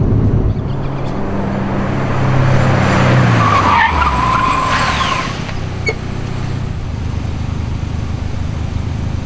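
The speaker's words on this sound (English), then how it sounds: "we can hit the brakes at the same moment" Loud tire screech as four cars, including a Proton Satria, brake hard and skid, a long squeal rising and fading over engine noise, no talking.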